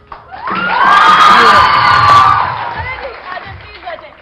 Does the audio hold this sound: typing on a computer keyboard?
no